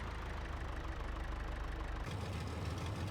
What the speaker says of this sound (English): Oh, how's this tractor pulling it?